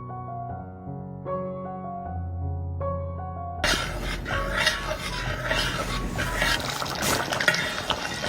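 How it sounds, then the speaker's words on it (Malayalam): Thick first-extract coconut milk pours into a pan of cooking Karkidaka lehyam, a steady liquid splash and gurgle that follows a few seconds of soft melodic music and carries on alone to the end. "ഈ ഒരു സമയം നമുക്ക് ഒന്നാം പാല് ചേർത്ത് കൊടുക്കാം"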